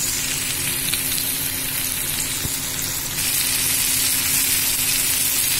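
Bitter gourd (karela) slices frying in a pan over medium flame, a steady close sizzle with dense crackling hiss throughout and a single sharp clink partway.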